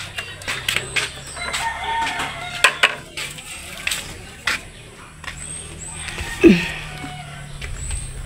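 Chickens clucking and calling inside a coop, close and irregular, with occasional sharper squawks over a steady farmyard background.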